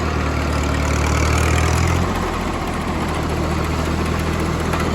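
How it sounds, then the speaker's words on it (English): An old Massey Harris 30 tractor engine, running a wood splitter, idles with a steady, loud low chugging that shifts slightly in tone partway through, then settles into an even rumble. "this old Massey Harris 30 made about 3, maybe 4 revolutions and fired right up."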